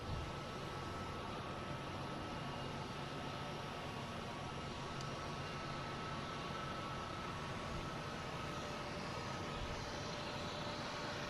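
A Cape Air airplane departs Boston Logan, heard as a faint, distant, even engine drone that continues unchanged throughout.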